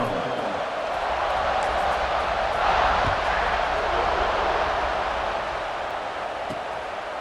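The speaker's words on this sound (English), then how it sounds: "this crowd now ready to get behind them" A stadium crowd roars in the EA Sports College Football 26 video game, a broad, steady wash of cheering that swells slightly midway, with a voice talking over it.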